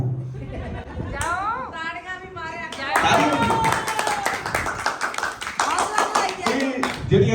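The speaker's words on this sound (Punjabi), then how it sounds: "ਤਾੜੀਆਂ ਕਲਾਕਾਰਾਂ ਲਈ" Applause for performers at a lively folk show, a crowd clapping steadily and fairly close, rising after a spoken intro and continuing under a voice talking over it.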